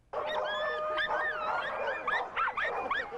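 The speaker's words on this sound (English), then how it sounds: "83 pooches in Australia trying to set a world record of the loudest collective bark" A crowd of 83 dogs in Australia bark, yip and whine together for a loudest-collective-bark world record attempt, a dense continuous chorus that starts abruptly and stays loud throughout.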